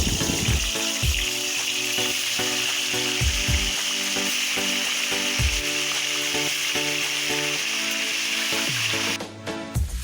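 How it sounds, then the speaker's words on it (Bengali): Chicken pieces frying in a pan for biryani give a steady, loud sizzle that runs almost the whole time, with tonal layers underneath, then drop away sharply just before the end. "এবার চিকেনগুলো ভেজে নেব"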